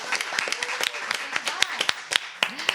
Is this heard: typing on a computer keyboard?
no